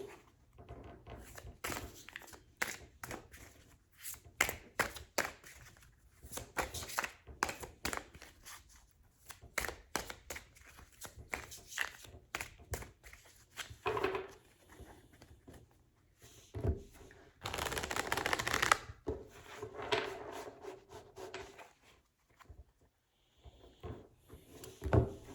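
Tarot cards being shuffled by hand in a quiet room, a long run of crisp riffling and tapping bursts, close and fairly soft, with brief pauses and a denser rustling stretch near the middle, no talking.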